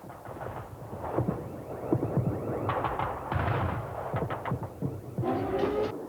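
Anti-aircraft guns return fire during the 1999 NATO bombing of Novi Sad, with rapid bursts of distant shots and thuds over a constant low rumble.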